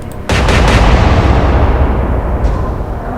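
A warship's guns fire a salvo in a naval battle video game: one abrupt, loud blast that swells into a long, heavy rumbling roar lasting several seconds, with nobody speaking.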